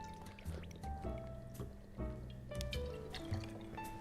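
El Jimador Reposado tequila being poured into a cocktail at a bar, a faint, brief trickle with soft drips and light clinks, heard alone.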